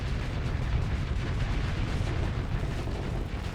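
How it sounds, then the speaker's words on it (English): A gas cannon fires in the Starsector space combat game, giving a dense, continuous barrage of booming, crackling blasts that runs loud and unbroken throughout. "Gas cannon."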